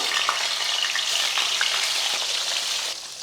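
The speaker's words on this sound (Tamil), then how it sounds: "இப்போ கருவாடை போட்டு வறுத்துக்கலாம்" Dried fish (karuvadu) fries in hot oil on its own, with no salt or spice, giving a steady, dense sizzle throughout with a few small pops, dropping slightly in level near the end.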